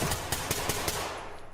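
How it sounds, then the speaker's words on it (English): Rapid automatic gunfire in a tactical shooter video game, a quick burst of sharp evenly spaced shots echoing inside a building, fairly loud, then trailing off into a fading reverberant tail. "we can already hear gunfire from within"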